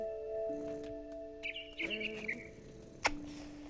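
Bird chirping in the video game What Remains of Edith Finch: a few short bright tweets over a steady tonal game ambience, fairly close and alone with no talking.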